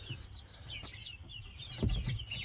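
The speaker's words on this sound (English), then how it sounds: "See the little chickens." Young chickens in a backyard coop, including silkies, cluck and chirp close by in a steady chatter, with a few louder low bumps of movement near the end.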